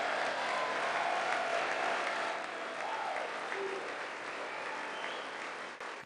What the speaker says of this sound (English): Obviously, only the Republicans applauded.